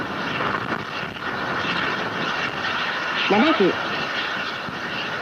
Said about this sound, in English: The H2A is now flying above the Pacific Ocean to the east.